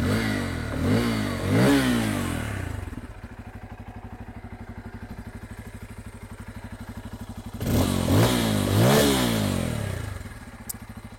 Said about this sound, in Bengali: প্রথমে আমি বাইকটার এক্সস্টের সাউন্ড আপনাদেরকে আমি শোনাচ্ছি।